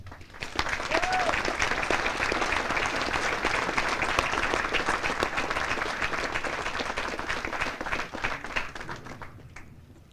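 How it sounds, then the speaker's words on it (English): An audience at a military regiment's Advanced Camp graduation ceremony breaks into sustained applause for awardees, a dense, steady clapping that holds for about ten seconds before tapering off at the end. "please join me in giving our awardees a round of applause"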